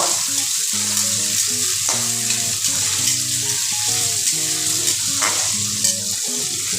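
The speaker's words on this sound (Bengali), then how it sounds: "দুটো টমেটো এভাবে কুচি ভালো করে এগুলোকে ভেজে নেব" Chopped tomatoes frying in a pan for an okra dish made without onion or garlic, giving a loud, steady sizzle with occasional stirring scrapes and a tonal hum in the background.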